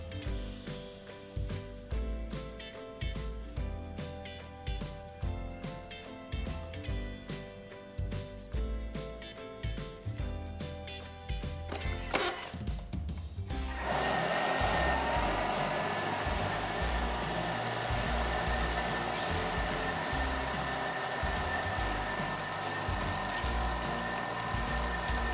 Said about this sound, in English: we're just going to give it another few more minutes, just 3 minutes,